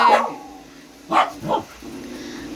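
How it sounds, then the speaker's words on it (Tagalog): Several dogs barking in short bursts, one opening bark followed a second later by two more answering barks, fairly close and loud over a faint steady background hum, outdoors on an overcast day. "kapag tumahol ng isa, tumatahol din ng iba"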